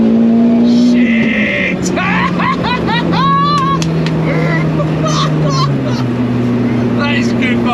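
A big-turbo 1.8T 20V Seat Arosa accelerates hard on the road, its engine note climbing steadily through the gears, loud and close, with a shouted exclamation and turbo whistles over the drone.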